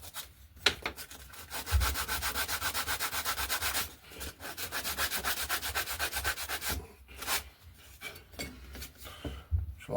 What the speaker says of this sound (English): Give that a quick sanding down